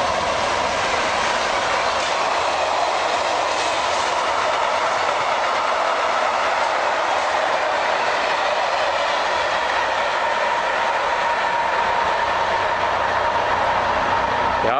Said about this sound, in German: Ja, jetzt fährt der Zug durch die Unterführung.